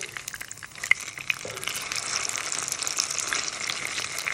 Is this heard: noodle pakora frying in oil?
yes